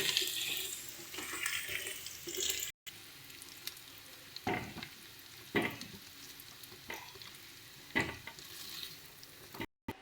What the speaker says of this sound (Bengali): আলুগুলো কিন্তু আমাদের হালকা ভাজা হয়ে এসছে